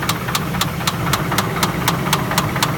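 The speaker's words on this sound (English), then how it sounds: "This is a spun bearing." A Ford Expedition engine with a spun bearing knocks sharply and evenly about four times per second over a rough, loud idle, heard close up with no talk.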